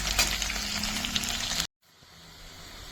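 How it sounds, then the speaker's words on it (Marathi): Onion frying in a pan, a steady broadband sizzle that cuts off abruptly partway through, leaving a much quieter bubbling hiss afterward. "आता आपण कांदा तळून घेऊ तुम्ही पाहता कांदा घातलेला आहे तळायला"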